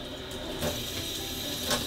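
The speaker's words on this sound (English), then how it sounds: "I just like to take each piece and rinse it off really quick." Steady rush of running tap water over pieces of celery being rinsed, close and continuous with small splashy surges and no speech.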